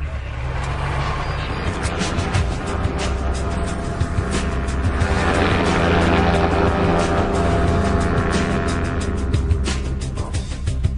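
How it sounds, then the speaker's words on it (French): A low-flying ultralight aircraft gives a steady, loud engine drone with a buzzing propeller that holds through the whole passage, slightly louder near the middle, with no talk. "L'équipe décide donc de survoler la région à basse altitude."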